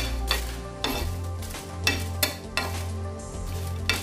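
Dried red chillies roasting in a pan for a chilli chutney, with a low steady sizzle and repeated scraping strokes of a spoon stirring them at regular intervals, close and fairly quiet.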